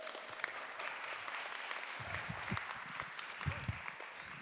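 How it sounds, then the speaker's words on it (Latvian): Applause fills a hall at the Latvian event awards ceremony, a sustained crowd of many hands clapping steadily for several seconds, dense and moderately loud. "Par ūsām aplausē!"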